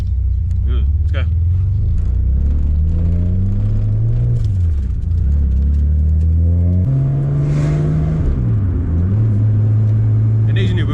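A Nissan Skyline R32 engine with an RB25DET idles roughly and then revs up and down several times, loud and close, with the pitch rising and falling between revs.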